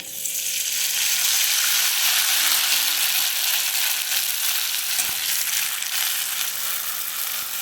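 Papad made from leftover rice starch water frying in hot oil, a steady, loud crackling sizzle that holds for the whole stretch with no talk.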